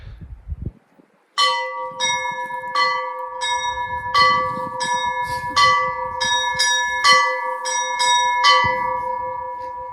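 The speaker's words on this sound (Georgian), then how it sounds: "ზარებაც დარეკა" Bells at Gudarekhi Monastery ring out in about a dozen loud, clanging strikes in an uneven rhythm, each leaving a ringing tail that overlaps the next.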